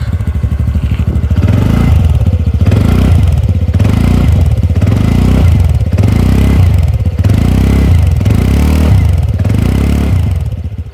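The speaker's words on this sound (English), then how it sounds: "Exhaust sound is sporty, beefy and best in segment" A 2020 TVS NTorq 125 Race Edition scooter's exhaust revs repeatedly, loud and close, the engine surging and dropping in regular bursts with a rough, throaty rumble.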